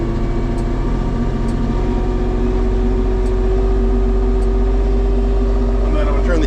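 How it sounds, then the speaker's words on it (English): A diesel LS MT 347 compact tractor runs steadily at high revs while clearing snow, a loud, constant droning hum with a slight rise in intensity toward the end, no pauses. "I'm gonna rev it up"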